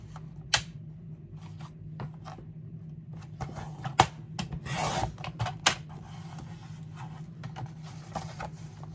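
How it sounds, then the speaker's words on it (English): A white border being trimmed off a photo print, heard as a close sequence of soft scraping and cutting sounds with sharp clicks and a brief louder rustle of paper, and no talking. "Trimming the white off is all I'm doing right now."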